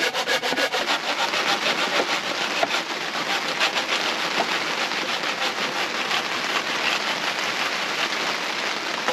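A hand saw cuts through wood on an outdoor DIY pergola porch build, with steady back-and-forth rasping strokes, close and continuous throughout.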